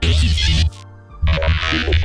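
Dense electronic music processed with the Buffeater plugin chops off abruptly into a low buzzing hum, then slams back in, giving a stuttering, glitchy cut-up feel.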